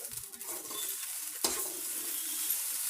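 Idli upma made from ration rice idlis being stirred in a pan, a soft sizzle with one sharp scrape of the spatula midway, brief and close.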